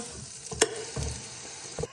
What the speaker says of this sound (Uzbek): Endi mana bu yog'ini 2 daqiqa qovurishga yotamiz.